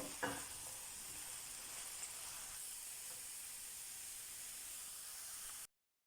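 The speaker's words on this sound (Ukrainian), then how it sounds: "помішуємо все і жаримо 5 хвилин на великому вогні." Food sizzles and crackles steadily in a hot pan over high heat, a soft continuous hiss with a small clink near the start before it cuts to silence.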